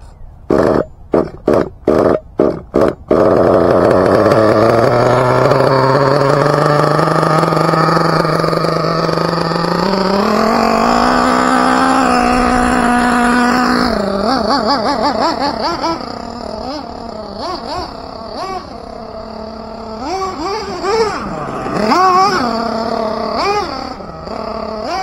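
Team Associated MGT nitro RC truck running rough at full throttle: a few sputtering pops, then a long, loud, sustained engine whine that rises and wavers in pitch, close and continuous.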